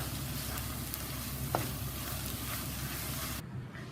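Chopped walnuts stirred in a pan on the stove, a steady soft scraping and sizzling hiss running close and continuous, with one brief sharper scrape partway through before the sound cuts out near the end.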